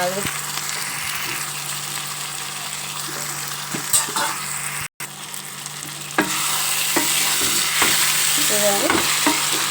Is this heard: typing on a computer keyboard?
no